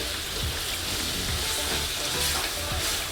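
Biryani masala is stirred in a frying pot, a dense, continuous sizzle with scraping and rustling from the bottom of the pot, close and even throughout.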